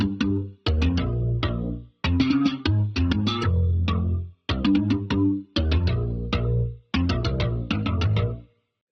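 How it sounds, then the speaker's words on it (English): Slap bass played through a transient designer, jazz amp and cabinet with phaser, reverb and flanger effects, heard as a funky phrase of sharp plucked and popped notes in repeated bursts with short gaps, loud and alone. "I took a slap bass, I ran it through a transient designer, jazz amp and cab"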